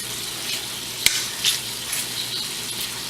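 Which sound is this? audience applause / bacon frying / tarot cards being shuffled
bacon frying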